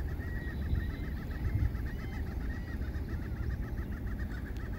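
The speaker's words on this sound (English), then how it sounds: "Sounds like they have a few seagulls here." Seagulls calling near Copano Bay in Bayside, Texas, a continuous chorus of repeated squawking cries at moderate distance over steady outdoor background noise, no talking.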